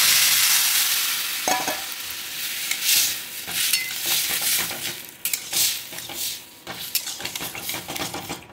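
Boiled dal tipped into a hot mustard and curry leaf tempering in a pan, bursting into loud, steady sizzling and spitting, with a spoon scraping and stirring against the metal throughout.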